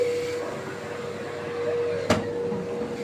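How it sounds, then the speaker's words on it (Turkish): A new electric vacuum cleaner runs steadily indoors, a constant whirring drone with a sharp click or bump partway through, no voices over it. "Süpürgeyi de alalım"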